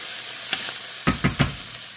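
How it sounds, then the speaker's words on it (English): Diced garlic sizzles in a hot pan with a few scraping stir strokes, three short bursts close together near the end over a soft, steady frying hiss. "I am going to add some diced garlic."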